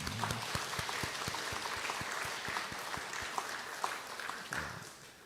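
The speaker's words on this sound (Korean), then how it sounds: "격려하는 박수 한번 할까요?" A church congregation claps in encouragement during a Sunday worship service, a steady patter of many hands filling the hall for several seconds with a few louder individual claps standing out.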